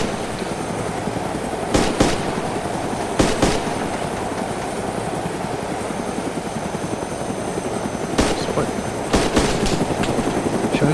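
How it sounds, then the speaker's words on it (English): A helicopter in the DayZ survival game keeps up a loud, close, continuous rotor drone, broken by several sharp bursts of gunfire, with no talking. "Another heli."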